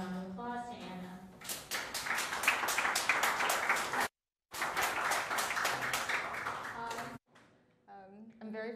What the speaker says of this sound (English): let's please give a warm round of applause to Anna